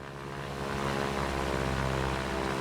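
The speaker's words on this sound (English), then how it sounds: "with the Cub, I'm gonna lower the plane noises a bit" A Piper Cub's engine in a flight simulator game drones steadily and loudly with a constant propeller hum, close and unbroken, with no voices over it.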